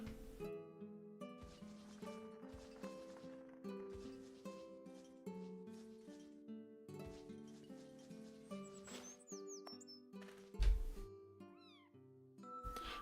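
Kitten meowing in the game Elin, repeated high mewing cries woven through background game music, fairly faint and steady with occasional louder chirps near the end.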